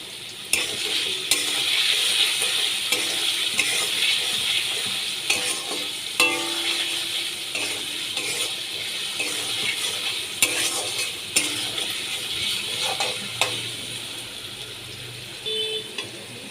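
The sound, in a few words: potatoes frying in oil with turmeric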